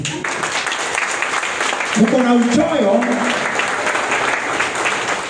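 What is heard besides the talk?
audience applause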